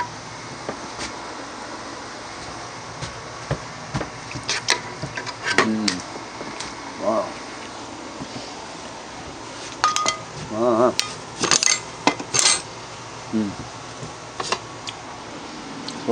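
A spoon stirs green chili with pinto beans in a cooking pot, giving scattered metallic clinks and scrapes in short bursts, fairly close and clear.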